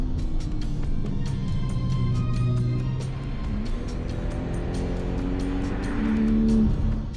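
Porsche 996 GT2 sports car, Club Sport version, heard from inside while driving: a steady loud engine drone with shifting tones as it accelerates and eases off, continuous throughout without talk.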